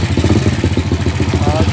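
Honda EX5 Dream motorcycle with a 110 engine and 3mm jet rod head block, running close and loud with a rapid, steady chugging putter.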